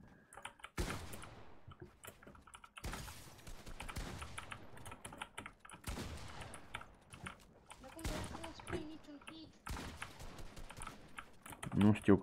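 Computer keyboard typing in bursts of rapid clicks during a Fortnite match, moderately close and clear, with pauses between flurries and occasional talk in the background.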